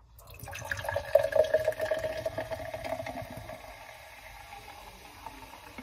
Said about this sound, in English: And here is the pour.